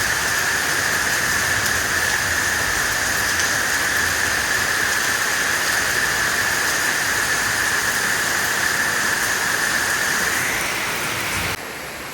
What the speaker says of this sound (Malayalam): ഫുള്ള് മഴ ഭയങ്കര മഴ എന്ന് പറഞ്ഞാൽ കിട്ടില്ല മഴ സൂപ്പർ മഴ